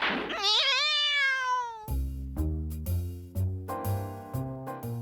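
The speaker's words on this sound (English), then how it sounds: "Here comes the cat!" Cartoon cat meowing in an animated children's show: a rising, wavering meow, followed by a series of loud, close, rhythmic thumps and musical hits, with no talking.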